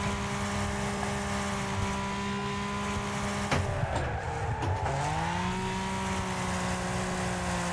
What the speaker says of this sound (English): it sounds like he's driving a Super Venom